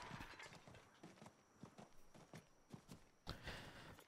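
Hooves clip-clop faintly and steadily as a horse is ridden in Diablo IV, a soft rhythmic patter of footfalls with a slightly louder burst near the end.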